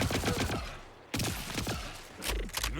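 Rapid bursts of gunfire in the looter-shooter game Borderlands 4, loud and dense, clattering in several volleys with a short pause near the middle.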